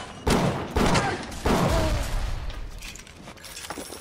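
Pistol shots in the video game Bioshock, three loud sharp reports about a second apart, each ringing out into a decaying tail, followed by quieter ambient game sounds.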